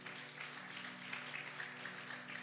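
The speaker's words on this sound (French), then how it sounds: "Est-ce qu'on peut applaudir pour leur présence?" An audience at a Christian worship event applauds, a steady crowd of clapping hands with a low musical hum underneath, moderately quiet and continuous.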